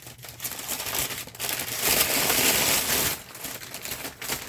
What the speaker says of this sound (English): I'm just going to tear some of that up